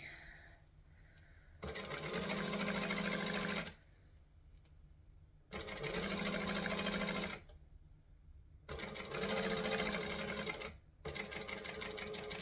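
A sewing machine back stitches a circle bag in three loud, steady bursts of rapid needle chatter separated by brief pauses, close up and with no voices.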